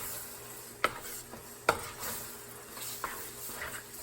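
A utensil stirring meat sauce in a pan for hotdog spaghetti, two sharp scraping clinks against the pan followed by softer stirring scrapes over a faint low sizzle, close and with no talking.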